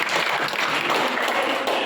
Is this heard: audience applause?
yes